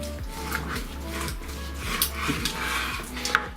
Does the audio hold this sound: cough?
no